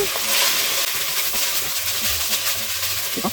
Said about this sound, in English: I'm going to go ahead and give it a stir. Sure enough, it's sticking to the pan, which means that it is brown.